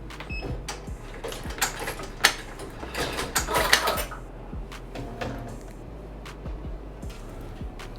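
An embroidery machine stitching the front pocket flap of a Boombah Superpack bat bag, with rapid mechanical clattering and ticking, busiest in the middle and thinning to sparse taps.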